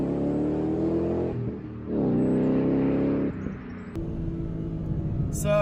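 A 2014 Ford Mustang GT engine roars under hard acceleration in second gear, pitch climbing through a gear, easing briefly, then pulling hard again from inside the cabin.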